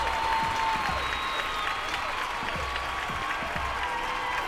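Steady applause from an audience at a film award ceremony, a dense continuous patter of clapping with a faint tone running beneath, sustained throughout without a break.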